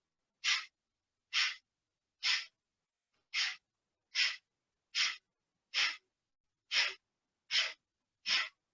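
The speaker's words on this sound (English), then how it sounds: "Now we're going to add Kapalabhati, breath and fire." Kapalabhati breath of fire: ten sharp, forceful nasal exhales in a steady rhythm about one per second, close and clear with silence between each puff.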